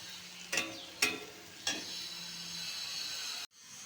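Potatoes and pointed gourd fry in oil in a pan, a steady soft sizzle with three sharp stirring scrapes early on, then the sizzle cuts off abruptly near the end, with no voices.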